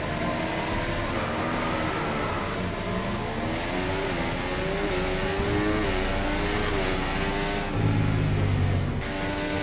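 Race car engines on a formation lap in a racing game make a loud, continuous drone with rising and falling pitch as the cars shift and accelerate. There is a brief heavier surge near the end.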